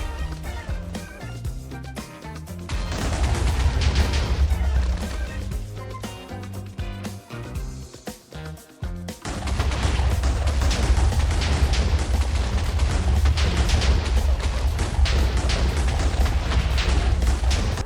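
A steady, loud rumbling roar fills the clip, broken by a choppy stretch of repeated dull muffled booms of TNT exploding underwater in Minecraft before the roar resumes.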